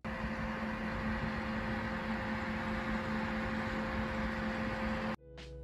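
Stock CPU cooler fan in a PC running at full load, a loud steady whirring drone with a persistent low hum, running continuously before cutting off abruptly near the end.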